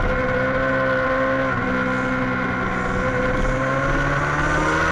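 Several 400cc racing motorcycles howl together at high revs during a race final, a steady, dense engine drone with layered tones that stays loud and continuous throughout.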